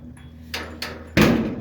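The passenger door of a 1929 Chrysler under restoration is worked with a few light knocks, then shut with one loud, solid close near the end.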